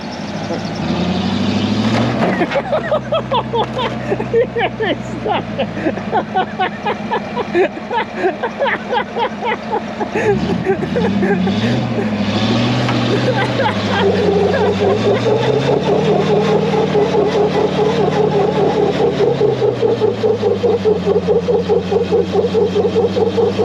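A Land Rover truck engine running loud and close while driving through the woods, a steady drone whose pitch rises and dips as it works, with brief voices over it.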